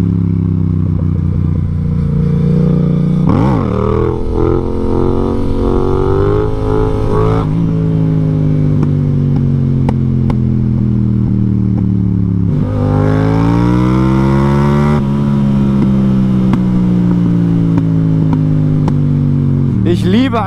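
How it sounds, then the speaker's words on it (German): A Yamaha MT-07 motorcycle engine revs repeatedly, loud and close, its pitch rising and falling in sustained throttle sweeps with brief clatter between pulls. "Ich liebe einfach den Sound der MT-07"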